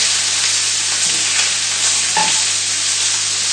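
Lamb sizzling loudly in a hot pan, a dense continuous frying hiss close up with a faint stir or scrape partway through and no voices.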